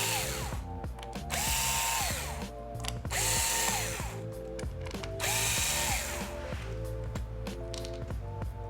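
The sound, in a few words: unscrewing Chromebook battery screws with a screwdriver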